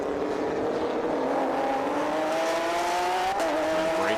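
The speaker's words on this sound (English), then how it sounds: "listen to the sound of the Porsche GT3 Cup car" A Porsche GT3 Cup race car on a circuit, its engine note climbing steadily in pitch as it accelerates past, loud and continuous, with a brief shift blip near the end.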